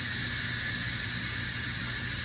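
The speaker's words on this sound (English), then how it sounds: "there's gonna be lots of steam that shoots up when you do this" Steam blasts from the release valve of an Instant Pot during pressure cooking in an RV, a loud, steady, close hiss that continues unbroken with no talking.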